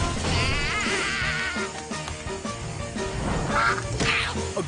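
A cartoon duck quacks repeatedly over a dense, busy animated soundtrack, its nasal calls standing out near the end.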